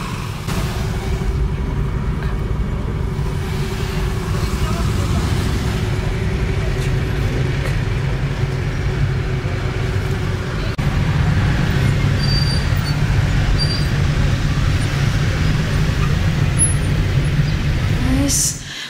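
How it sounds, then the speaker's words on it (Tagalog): Heavy evening road traffic in a Filipino jam, a steady low rumble of idling and crawling engines close by that swells slightly midway and holds constant to the end, with no speech. "na-stuck na tayo dito sa traffic ko. Grabing traffic."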